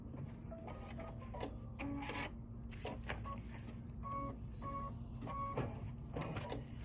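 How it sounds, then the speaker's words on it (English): An embroidery machine stitches a tack-down line for glitter vinyl, giving a steady, fairly quiet mechanical whir with rapid repeating needle ticks and small pitched beeps or whines throughout, without talk. "It's stitching the tack down for the glitter vinyl right now."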